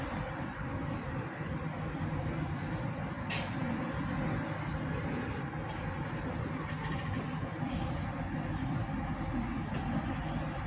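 Continuous low rumble and rolling rattle inside a Taksaka executive train carriage, steady throughout with occasional faint clicks and a voice briefly audible.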